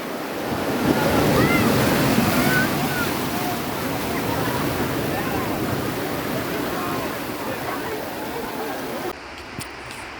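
Sea waves wash steadily onto the shore in a continuous broadband surge, loud and close, with wind buffeting the microphone throughout and a brief drop near the end.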